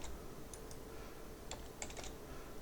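A few light keystrokes on a computer keyboard, faint soft clicks scattered over a quiet hiss, close by and without any speech.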